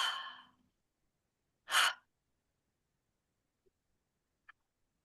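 Deep breaths during yoga breathwork: a long drawn-out exhale at the start, then one strong forceful breath near the two-second mark, followed by near silence with a couple of tiny clicks.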